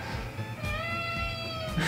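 A cat meows in one long, drawn-out, wavering cry, close and fairly loud, with no talk over it.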